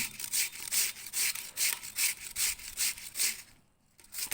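Chayote being grated by hand for bonda, a rhythmic rasping of about a dozen even strokes, close and loud, that stops briefly near the end.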